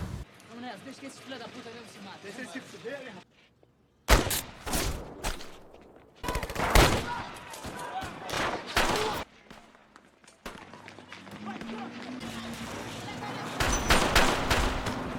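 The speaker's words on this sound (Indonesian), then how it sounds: "Kemudian scene pun berpindah pas penembakan si Ned" Bursts of rapid gunfire ring out between stretches of tense dialogue, volleys of shots cracking loud over a cinematic soundtrack.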